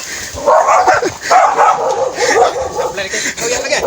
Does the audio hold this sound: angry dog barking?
yes